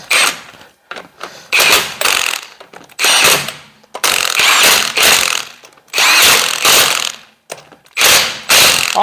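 A power impact tool rattles in repeated loud bursts of about a second each, with short pauses between, as it runs wheel lug nuts onto a vehicle, close and dominant with no talking.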